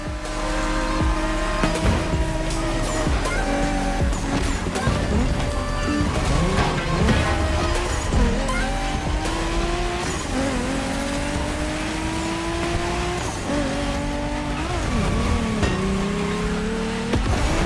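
Race cars roar through a race in The Crew Motorfest, loud engines rising and falling in pitch through repeated gear changes, with tire squeals layered over a continuous dense wash of engine noise.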